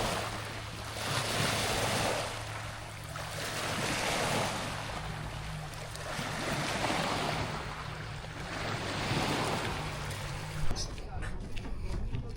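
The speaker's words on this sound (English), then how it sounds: "I'm going to keep quiet now and just let you listen to the sea." Sea waves washing against a harbour wall along a promenade at Alykanas, with a slow, steady rhythm of surging and receding surf, heavy wind rumble on the mic, and a brief voice near the end.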